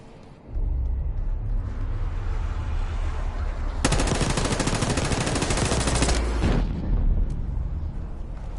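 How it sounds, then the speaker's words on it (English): Sustained automatic gunfire rattles through a video game scene, a dense burst of rapid shots swelling loudly in the middle over a constant low rumble, with no talk. "You hearing gunfire?"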